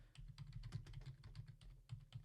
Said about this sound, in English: I'm typing on the keyboard. You hear the clicky click clacks.